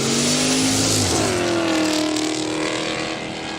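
A big Nissan GU four-wheel drive launches in a street drag race on a quick street day at Kooralbyn Valley, its engine revving hard, dropping briefly, then climbing again through loud, close acceleration.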